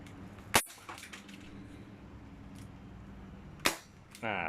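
A Ruger MK1 BB gun loaded with 0.25 gram BBs fires two sharp, close cracks about three seconds apart over a quiet background, with a brief rattle at the end.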